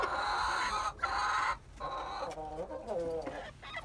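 Hens and a rooster in a backyard coop give a run of close, loud clucks and throaty calls in uneven bursts, with a person talking intermittently nearby.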